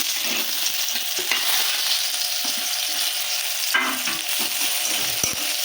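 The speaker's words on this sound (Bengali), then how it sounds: "বন্ধুরা পেঁয়াজ আর রসুন হালকা একটু ভেজে নিয়েছি।" Onion and garlic fry in white oil in a kadai (wok), giving a steady, close, loud sizzle throughout with occasional sharp stirring clicks and no talking.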